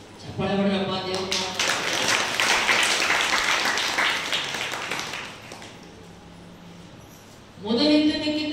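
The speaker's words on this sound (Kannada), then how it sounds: "ಚಪ್ಪಾಳೆ ಹೊಡೆಯಪ್ಪ ದೇವರು." Church congregation clapping for God during a sermon: a dense burst of applause fills about four seconds, tapers off, and a preacher's voice is heard before and after it.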